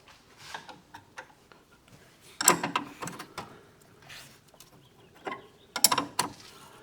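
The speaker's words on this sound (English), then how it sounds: "So since we got the bolt off the other side undone, we're gonna go ahead and unbolt this side." A sway bar bolt on a Polaris Ranger being unbolted by hand, with scattered metallic clicks and ratcheting ticks in short irregular bursts, close and fairly quiet.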